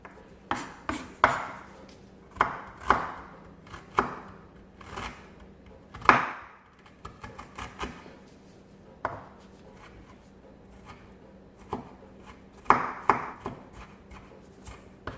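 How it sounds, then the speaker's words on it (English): A knife dices fresh ginger on a cutting board for Spicy Bourbon Chicken, giving irregular bursts of sharp chopping taps, some quick runs and some single hits, close and clear with no talking. "I'm going to dice this as fine as I possibly can with the knife."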